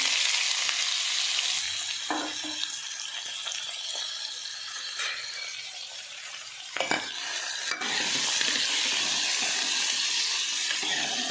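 Cumin and onion frying in hot oil while cooking cluster beans, making a loud, continuous sizzle with occasional stirring scrapes and spatula knocks, close up.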